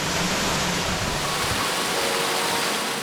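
A waterfall in Australia's north west roars as a broad, constant rush of falling water, loud and close, with a faint tonal hum in the background.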